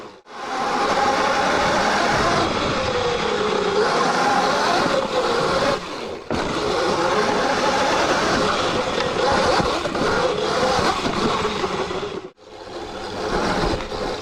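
A Surron electric motorcycle rides over obstacles, making a steady, fairly loud whir with rising and falling tones. Two short dips break the sound as the bike lifts and lands.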